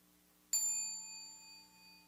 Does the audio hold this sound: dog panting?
no